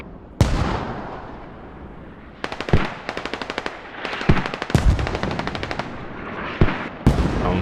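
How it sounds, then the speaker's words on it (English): Automatic gunfire and single shots in a Squad match on the Narva map, fired toward mortar positions: a sharp opening shot, then rapid bursts, repeated cracks and a few heavier reports, fairly loud with no talk. "taking some shots towards the mortars"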